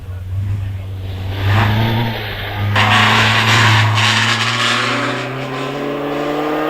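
A vintage single-seater Gotthard Nash racing car accelerates up the Prescott hill climb, its engine note droning steadily and rising in pitch with a louder surge midway, heard from nearby.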